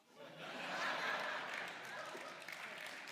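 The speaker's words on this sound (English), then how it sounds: "Now, you shouldn't clap" An audience at a lecture on faith and science applauds, a dense, even spread of clapping that swells in after a quiet start and holds steady, soft and distant in the room.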